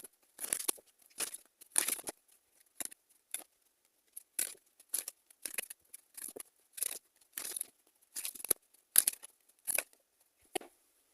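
Tarot-style cards are shuffled, drawn and laid down, giving a series of short crisp flicks and rustles spaced irregularly, close and fairly quiet.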